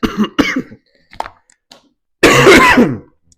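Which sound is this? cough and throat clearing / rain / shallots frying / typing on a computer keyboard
cough and throat clearing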